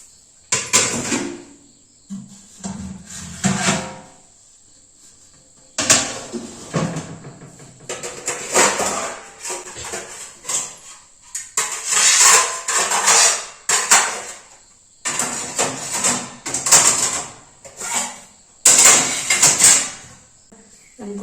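Metal pots and vessels are stacked and set in place in a village kitchen, with bursts of clattering and clinking separated by short pauses, close and fairly loud over a constant high insect chirr.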